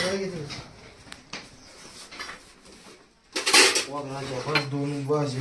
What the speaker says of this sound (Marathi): तर आम्ही सर्व मंडळाची भांडी काढत आहे बाहेर